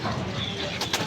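Male racing pigeons in a loft give soft, low cooing close by, with a brief flutter near the end.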